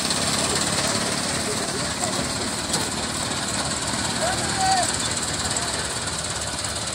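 Loud, dense engine roar of a Massey Ferguson 385 tractor pulling at full power against another tractor in a field contest, continuous and close throughout.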